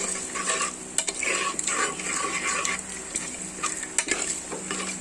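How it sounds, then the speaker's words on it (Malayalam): A spoon stirs water into a green gram dal curry in a pot in repeated scraping strokes, with a light sizzle and occasional clinks of metal underneath. "ആവശ്യത്തിലുള്ള വെള്ളം ഒന്ന് കലക്കി കൊടുക്കുക"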